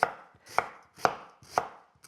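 Food being diced with a knife on a board for a Sri Lankan balti, four evenly spaced sharp chops close by with no talking.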